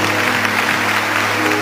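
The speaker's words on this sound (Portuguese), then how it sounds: "Pode aplaudir isso." A church congregation breaks into dense, continuous applause during a Catholic priest's sermon, a loud, even roar of many hands clapping at once.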